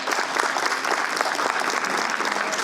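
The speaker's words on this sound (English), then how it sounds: "So let's give him a warm round of applause." Warm applause from an audience at a literary competition reception, a dense, steady clapping that fills the room throughout.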